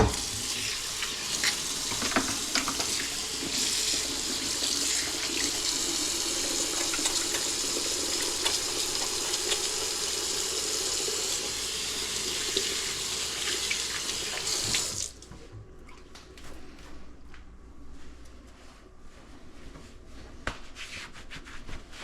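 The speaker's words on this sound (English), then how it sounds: "give my hands a wash" Hand washing under a running kitchen tap while cooking sweet and sour chicken: a steady broadband rush of water for about fifteen seconds, then it cuts off, leaving quieter room sounds and small clinks.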